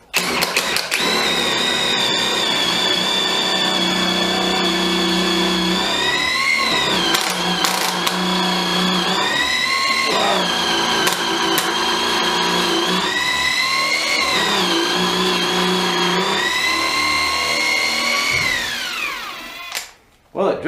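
A Makita impact driver fitted with a chuck drills continuously and loudly, its motor pitch rising and falling over a steady whine until it stops near the end.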